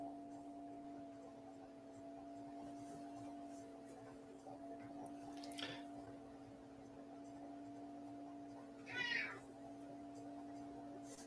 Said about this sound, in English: The cat's meowing at me.